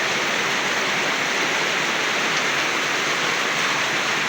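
Rainwater leaking from a roof and running down along wood, a steady broadband hiss of falling and flowing water that holds even and continuous throughout, with no voices.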